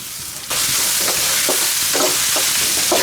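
Sichuan peppercorns, dried chilies and garlic leaves stir-fried in a wok over low heat give a loud, steady sizzle that jumps in after a brief quiet start, with repeated scraping strokes of the spatula.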